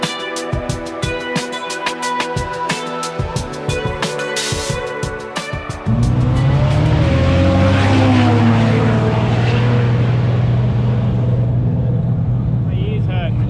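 Nissan GT-R and SR20-powered race cars at a roll racing event in Brisbane, a sudden loud engine roar bursting in midway over earlier clattering background noise, then holding a sustained heavy revving drone.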